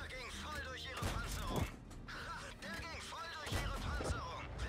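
Tank cannon fire in the video game World of Tanks, with several heavy booming shots and thuds spread across the stretch, mixed with battle effects and someone talking over them.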